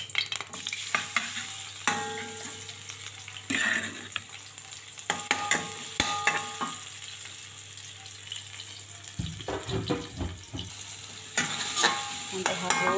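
Ground spice paste sautés in hot oil for a braised fish dish, giving a soft, steady sizzle broken by bursts of spoon scraping and stirring that come and go, fairly quiet and close.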